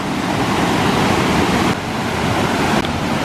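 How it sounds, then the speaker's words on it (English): Water pouring over a weir on the River Kent, a steady loud rushing roar close by, continuous throughout with no voices. "Now, there's a weir."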